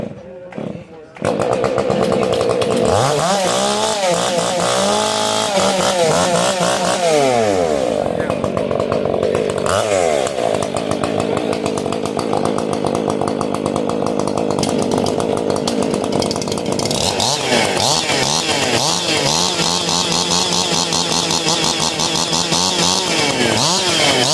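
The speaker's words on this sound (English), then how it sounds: "30 seconds to warm up your saws." Several competition chainsaws at a timber sports contest rev and warm up together, loud and continuous with rising and falling engine pitch, while an announcer and crowd voices carry on underneath.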